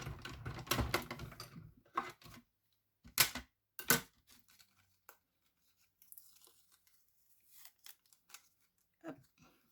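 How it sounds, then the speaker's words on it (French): Scissors cut a paper sheep shape for a stamped card craft, with a quick run of close snips and paper rustle at first, then a few sparse, fainter cuts and handling sounds. "vous allez détourer votre mouton"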